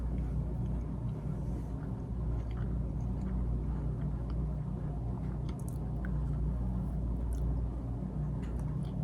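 Soft, crumbly sugar cookies are chewed close to the microphone in a quiet ASMR setting, giving faint, irregular mouth sounds and small crumbly bites over a low steady background, with no talking.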